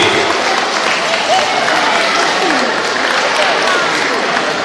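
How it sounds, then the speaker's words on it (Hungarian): Loud, dense audience applause as a performer is introduced on stage, a continuous wash of clapping filling the room, with crowd voices mixed in. "Tapsot néki."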